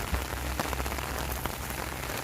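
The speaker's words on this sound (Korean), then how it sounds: "잠시 잠깐에 비가 많이 오는 것 같아요" Heavy rain pelts steadily on a camping windscreen at a campground, a dense, close, continuous patter with no pauses and no voices.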